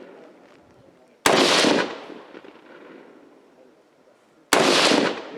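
Two sharp gunshots at a practical shooting competition stage, loud and close, spaced about three seconds apart, each with a short outdoor echo tail, over a quiet background.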